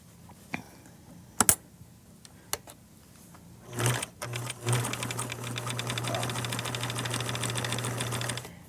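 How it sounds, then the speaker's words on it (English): Sewing machine zigzag stitching along the edge of a fabric shoe bag, starting with a few isolated clicks and short bursts, then settling into a steady, close, continuous whirring run for several seconds. "Now I'm going to zigzag this edge before I sew it because I want to leave an opening for the"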